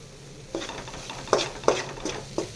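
Garlic, green chilli and shallots sautéing in a pan for pasta, a low sizzle under five or six sharp, rhythmic scrapes and taps of a spoon stirring against the pan.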